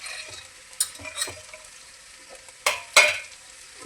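Sprouted horse gram tossed in hot oil in a pan makes a faint, steady sizzle with a few sharp scraping strokes of a spoon against the pan, the loudest clustered toward the end.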